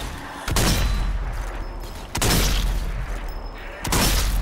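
Three heavy grenade-style explosions from the zombie shooter Zombie Army 4: Dead War on PS5, loud booming blasts spaced about every one and a half seconds, each one rumbling away before the next.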